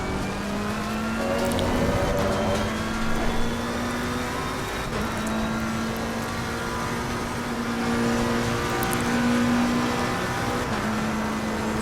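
Race cars lapping Imola at sunset in Assetto Corsa Competizione on PS4, with a sustained engine drone and tonal revving that rises and falls as gears shift, loud and close, with faint surrounding cars and no talking.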